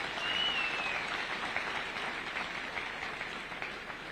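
An audience at a Thika High School 70th anniversary event applauds for Sam Njoroge, a dense steady clapping from a crowd at a distance that slowly fades.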